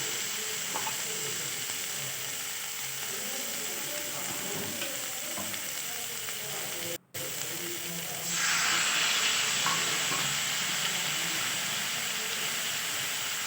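Spice paste with poppy seed and mustard frying steadily in a pan, a continuous close sizzle that briefly cuts out midway, then returns with a brighter hiss of fresh paste.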